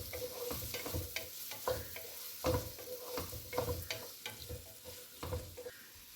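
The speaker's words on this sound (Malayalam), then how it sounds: "അടുത്തത് ഉള്ളി ഇടുന്നതാണ്" Three chopped onions sizzle in a hot pan while a utensil stirs them in quick, uneven scrapes and clatters, close and fairly quiet, with no talking.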